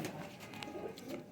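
A pigeon coos softly with low, rolling murmurs close by, over a faint background hum.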